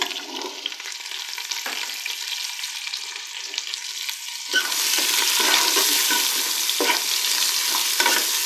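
A medium onion frying in oil in a pot for mutton yakhni, a soft sizzle that swells into a loud, dense crackle halfway through, with stirring scrapes, close and without talk.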